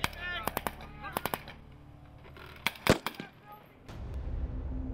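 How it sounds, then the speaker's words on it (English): Thunderflash pyrotechnics simulating battle noise in Canadian Forces training, heard as clusters of sharp, loud bangs in quick groups, with a heavier blast near the middle and a rumbling tail afterward. "The Thunderflash is used to simulate battle noises during training."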